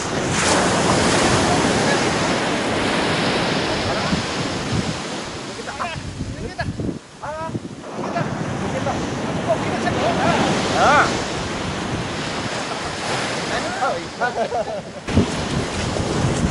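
Ocean surf breaking on a sandy beach during surf casting, a constant loud wash of waves with wind buffeting the microphone, brief lulls between breakers and faint voices now and then.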